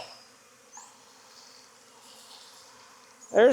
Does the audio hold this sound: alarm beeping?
no